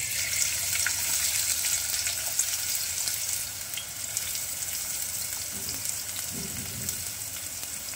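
Onion frying in hot oil for pithla, a steady close crackling sizzle that holds at an even level throughout, with a couple of soft low clunks late on.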